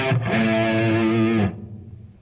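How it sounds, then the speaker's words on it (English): Distorted electric guitar sounding a single sustained, harmonically rich note with the strings muted to stop it short, ringing about a second and a half before cutting off, alone with no talking. "Staccato would sound like this."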